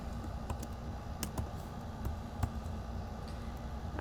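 A command being typed on a computer keyboard: soft, irregular key clicks at a moderate pace, close but quiet over a faint steady background hum.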